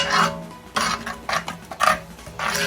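A spoon scrapes and stirs chana masala in a metal pot, four or five distinct rasping strokes at a steady rhythm, close and fairly loud, without any talking.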